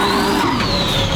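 Twin turbo V12 Ferrari engine revving under throttle, a loud close engine roar with a rising and falling whine over a short burst.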